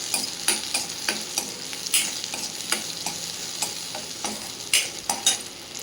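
Green chillies and tamarind sautéing in a pan for coconut chutney, a soft steady sizzle broken by repeated sharp scraping taps of a spoon stirring, close and clear with no voices.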